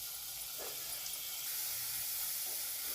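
Capsicum curry with yogurt stirred into the spices sizzles steadily in a pan, a continuous close frying hiss with soft occasional scrapes of stirring.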